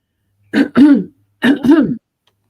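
Two quick pairs of harsh, close choking coughs or throat-clearing bursts, separated by a short pause, then silence.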